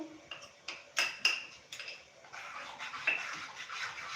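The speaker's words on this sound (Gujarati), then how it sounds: "એને આપણે મિક્સ કરી લેશું" Semolina dhokla batter being mixed with ginger and chili paste in a bowl, with a few sharp clinks of the utensil followed by soft, continuous wet stirring, close and fairly quiet.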